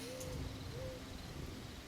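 An owl hoots twice at night, soft and somewhat distant, each call a short tonal note spaced well apart over a steady quiet background hiss.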